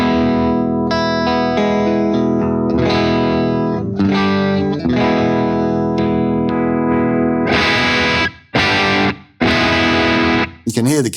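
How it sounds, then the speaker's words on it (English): An electric guitar on a single coil setting, played through a clean channel pushed to clip slightly: sustained strummed chords that ring out, then a few short, loud chord stabs separated by brief gaps near the end. "let's have a listen to my clean tone to start with"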